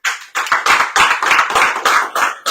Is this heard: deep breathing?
no